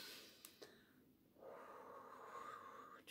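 One slow, deep breath drawn in and released during a guided relaxation exercise, soft and close, alone with no talking.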